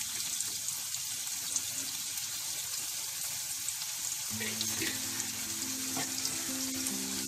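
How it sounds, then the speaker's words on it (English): Chilli garlic prawns sizzle steadily in a pan, with the frying hiss shifting as soy sauce is poured in partway through and tonal bubbling joins the sizzle. "So first we are giving some soya sauce,"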